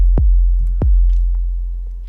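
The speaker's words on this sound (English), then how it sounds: "It already sounds like a pretty good bass and kick" Two deep synthesized kick-and-bass hits from Logic Pro's Drum Synth on a hip hop/trap beat, each a punchy low thump with a long booming tail, spaced about half a second apart.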